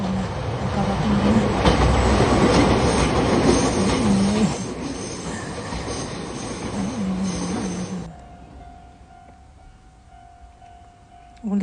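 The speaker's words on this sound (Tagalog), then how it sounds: "Paparating na yung train." Train rumbling past a closed railway crossing in Osaka, loud wheel noise and squealing with a rhythmic clatter, a high crossing bell ringing over it, then the roar drops away as the train clears, leaving quieter ambience.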